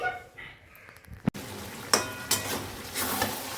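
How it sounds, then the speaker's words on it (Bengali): Chicken is being cooked down in a pot with a soft sizzle and intermittent stirring and utensil clinks against the pot, after a quieter start and a sharp knock partway through. "বাড়িতে রান্না হচ্ছে আজকে চিকেন কষানো চলছে"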